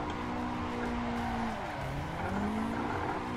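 Car drifting in the Assetto Corsa racing game, a steady engine drone whose pitch drops as the throttle lifts, then rises again as it accelerates back, with tire noise underneath, loud and continuous, no one talking.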